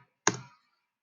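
A single sharp computer mouse click while modelling in SketchUp, close, quiet and crisp, with a short tail and silence around it.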